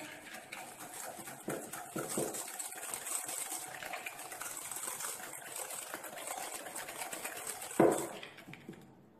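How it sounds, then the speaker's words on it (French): Egg yolks and caster sugar are whisked in a mixing bowl, a steady close wet swishing and clinking that continues for several seconds before a sharp knock near the end. "je vais venir fouetter au moins 5 minutes"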